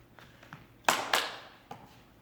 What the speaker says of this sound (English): See if I can get another clapping as well.